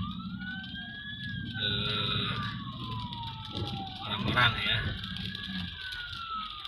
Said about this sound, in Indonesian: Nah ini ada ambulan, bukan ambulan, ada kebakaran kayaknya belakang